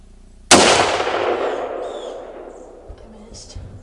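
A single loud firearm shot rings out on an antlerless deer hunt during Michigan's early firearm season, followed by a long, fading echo and quiet movement.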